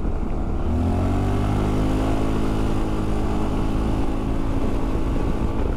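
A Honda ADV 350 scooter's engine rises steadily in pitch as it accelerates, a loud, continuous drone with heavy wind rush recorded from the rider's position.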